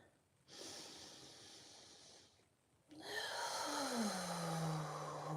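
A person does intentional breath work, drawing in long audible breaths and exhaling with a hissing, voiced rush, close and steady with a pause between breaths.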